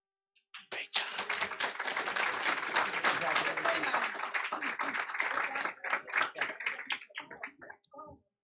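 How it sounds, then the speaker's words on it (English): People at a school district board meeting give a round of applause that starts abruptly, holds as dense, close clapping for several seconds, then thins into scattered claps and stops. "Let's give a big round of applause again to Mr. Turner School."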